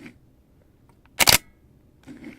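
A Canon Elan 7 (EOS 30) film SLR fires its shutter once at 1/60 second, a sharp close mechanical snap with a short whirring tail, alone in a quiet room.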